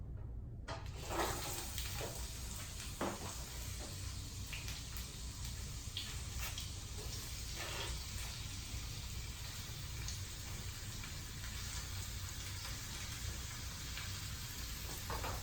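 Vegetables sizzle and crackle as they stir-fry in a hot pan for Asian beef. A dense, steady frying hiss bursts in at once and carries on, with faint scrapes of stirring underneath.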